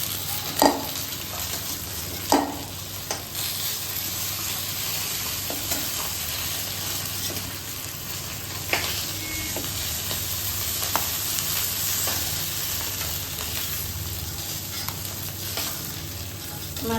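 Fish sizzles steadily in hot oil in a kadai, a soft continuous frying hiss with occasional clinks of a spatula, fairly quiet and free of talk.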